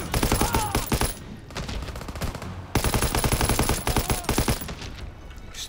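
Rapid, loud bursts of gunfire from a World War II battle in Call of Duty WW2, with dense repeated shots across most of the stretch and a brief lull before the firing resumes.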